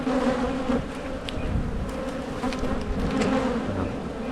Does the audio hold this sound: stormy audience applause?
no